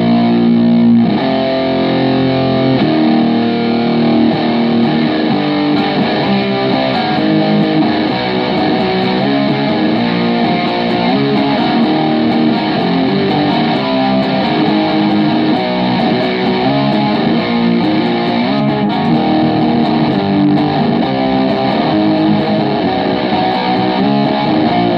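Electric guitar played through a Boss DS-1 distortion pedal: a dense, heavily overdriven tone that rings continuously and loud for the whole stretch, with no talking.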